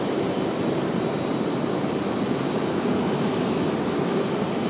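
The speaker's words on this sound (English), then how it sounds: "this A321 back taxiing quickly." An Airbus A321 jet taxiing at an airport gives a steady, loud, broadband engine roar with a constant hum that holds without change throughout.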